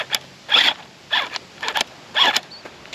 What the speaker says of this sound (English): it's already clicking and skipping gears.